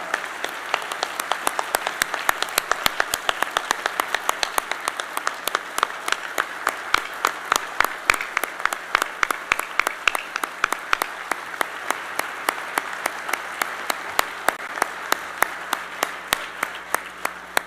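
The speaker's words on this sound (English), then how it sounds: "Let's give him a applause." Audience applause for President Trump at the New York Economic Club, with sharp, rhythmic claps in a steady regular beat that carries on for a long stretch.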